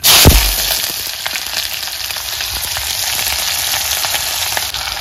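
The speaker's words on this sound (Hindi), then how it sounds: "पे सरसों का तेल डाल दिया" Mustard oil sizzles and crackles steadily in a hot pan, a loud, continuous frying hiss with a sharp clatter at the start, no talking.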